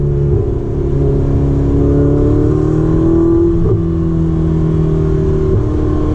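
A Ferrari 488 Spider's engine drones loudly and steadily from inside the car, its tone rising gently as it accelerates, with a brief bump partway through and no voices.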